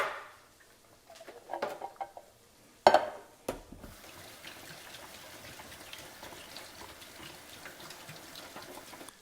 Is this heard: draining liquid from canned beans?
yes